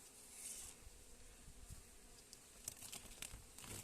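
Honeybees buzz faintly and continuously around an opened hive during treatment for varroa mites, a soft airy hum with scattered light crinkling and tapping close by, no voices.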